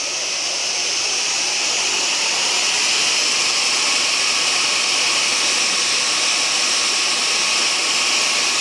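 A belt sander, powered from a portable power station in a workshop, runs at full speed: a steady, loud, high whine and rush of air holds evenly for the whole stretch, with no voices.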